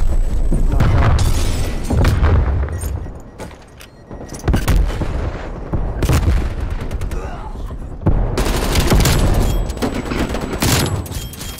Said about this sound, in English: This guy is just grenade launching every every corner.